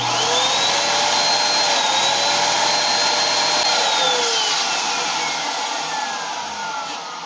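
An electric balloon inflator runs as a 260 twisting balloon fills from its nozzle, a steady loud motor whine with a rising tone that holds for several seconds before easing slightly near the end.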